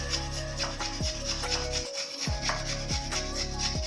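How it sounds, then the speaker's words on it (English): Carrots are rubbed against a hand grater in rhythmic back-and-forth strokes, each scrape rasping close and clear with a short pause partway through. "I will grate the carrots now. I'm using my grater to get"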